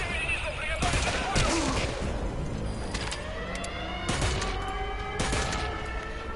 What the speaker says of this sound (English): Of course it's gonna be fucking gunfire